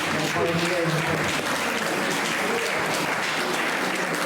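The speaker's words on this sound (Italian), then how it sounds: "dobbiamo applauso a Dolores" An audience applauds for Dolores at an Italian poetry gathering, a steady wash of clapping that stays loud and constant throughout, with voices mixed in underneath.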